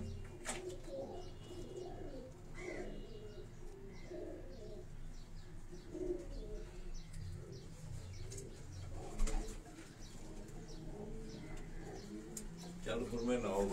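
Breeder pigeons coo softly inside their coop, low murmuring calls repeating amid rustling and background noise, with someone talking nearby.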